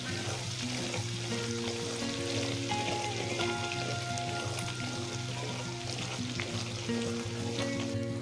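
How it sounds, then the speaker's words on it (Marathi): Spices fry in a kadhai as they are mixed together, a dense, even sizzling hiss with soft stirring scrapes running steadily throughout at moderate loudness, with a faint steady hum underneath. "सर्वच्या सर्व मसाले आपण एकत्रित कढईमध्ये टाकून दिलेले आहे त्यांना चांगला आजी मिक्स करत आहे"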